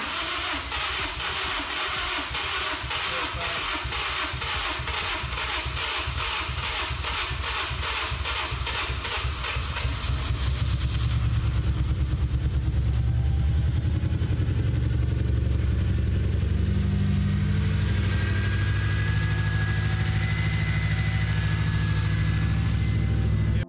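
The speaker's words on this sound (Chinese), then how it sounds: "看看车子的启动情况怎么样。" A Honda S2000 engine, just fitted with new spark plugs, cranks with a rhythmic starter chatter for about ten seconds, then catches and runs at a loud, steady idle close by.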